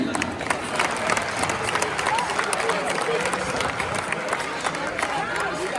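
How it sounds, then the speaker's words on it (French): A stadium crowd at a centenary match of FC Lorient legends applauds players as they are introduced, with steady, dense clapping and crowd murmur. "on applaudit Christophe Leroux."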